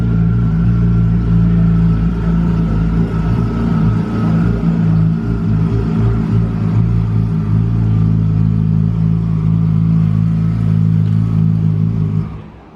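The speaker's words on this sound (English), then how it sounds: "It's the fastest manual GT2 in the quarter mile. This thing sounds crazy." A custom Lamborghini GT2 with a manual gearbox, seen at a car show, holds a loud, steady, droning engine note close by, rumbling continuously before cutting off sharply at the end.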